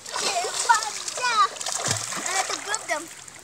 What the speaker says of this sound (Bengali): হ্যাঁ সাঁতার দে, পাওলারা।